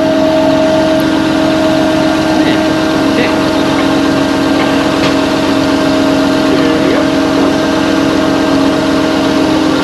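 An engine drones steadily and loudly during sandblasting of a cabover Freightliner truck frame, a constant tonal hum with faint hiss and occasional ticks, with a voice speaking over it.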